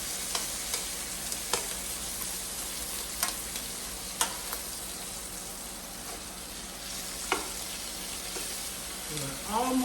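Small popcorn shrimp fry in a pan, a quiet constant sizzle with scattered sharp pops and clicks as they are moved around.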